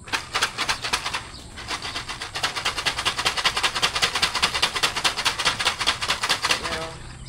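Racing pigeons arriving at a loft after a club training toss in Tanay, Rizal, their wings flapping in a dense, rapid clatter that builds steadily and continues throughout, fairly close.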